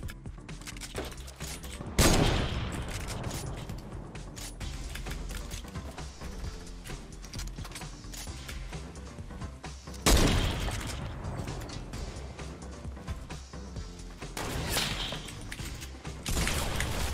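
Shotgun blasts in Fortnite during a build fight, loud booming shots at intervals over continuous dense game noise, with heavy bursts standing out.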